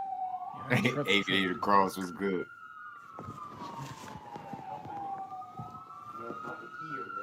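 Ambulance sirens wail along a city street, a loud rising and falling tone sweeping continuously throughout while someone talks over the first couple of seconds.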